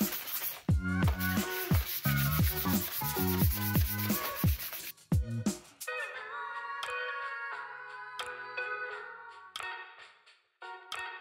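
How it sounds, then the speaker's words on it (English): Coarse rhythmic scraping strokes of coarse sandpaper on a metal saw blade, fast and loud at first, then a slower, fainter rubbing with a tonal ring. "Let's sand the saw blade."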